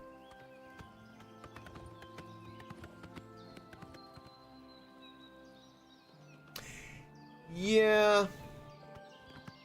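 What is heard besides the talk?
horse walking in Elder Scrolls IV Oblivion video game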